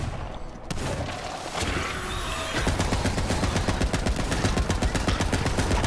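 Rapid automatic fire from a Dahl assault rifle in Borderlands 3, a dense burst of loud, evenly spaced shots that carries through most of the stretch with no talk over it.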